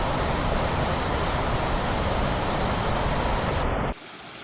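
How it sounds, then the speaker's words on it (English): Waterfall on the Tumalo Falls loop trail near Bend, Oregon, a loud, dense, unbroken roar of falling water close by, cutting off abruptly near the end. "be greeted by waterfall after waterfall"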